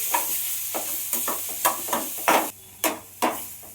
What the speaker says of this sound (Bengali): 1/2 চামচ হলদি গুঁড়ো, 1/2 চামচ লঙ্কার গুঁড়ো দিয়ে আবারও ভালো করে আমি বিট গাজরটা নাড়াচাড়া করে নেব